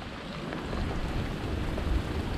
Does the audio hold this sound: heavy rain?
yes